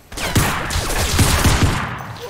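Rapid pistol fire in the shooter game Crysis Remastered, a loud burst of several sharp shots spaced close together over steady in-game background noise.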